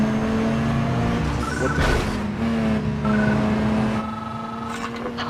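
Toyota Supra engine in the racing video game Need for Speed Underground 2, a loud steady drone with sustained revving tones and brief skids, continuous throughout with a short spoken exclamation over it.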